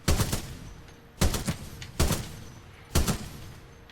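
Gunfire from weapons in the video game Titanfall 2: four loud, sharp bursts spaced roughly a second apart, each with a short echoing tail and no talk over them.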